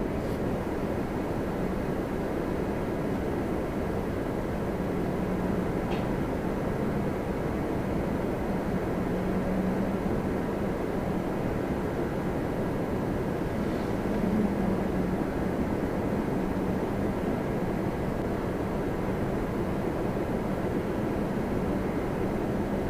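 A Lufthansa Airbus A350-900 at Toronto Pearson produces a steady, broadband jet roar that holds level and continuous throughout, with no voices present.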